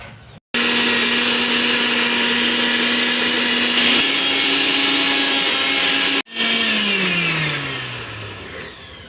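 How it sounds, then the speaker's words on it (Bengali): An electric mixer grinder whirs loudly as it grinds spices for chicken chow mein. It gives a steady high-pitched motor drone, pauses briefly, restarts, then winds down in falling pitch after switching off. "তো আজকে আর বাটবো না শিলনোড়াতে, আজকে মিক্সচার করে নেবো।"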